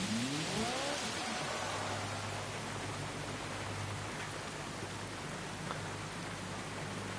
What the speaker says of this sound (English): Isn't it nice and peaceful to have this sound effect of the rain hitting the track hard and onto the car?